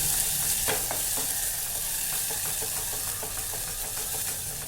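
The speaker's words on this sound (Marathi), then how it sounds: "आता मी त्याच घालणार आहे हे छान मिक्स करून घ्यायचं आहे" Chutney mixed with salt being stirred in a pan for a Maharashtrian fasting thali, a steady close sizzle and scraping with soft repeated stirring clicks throughout.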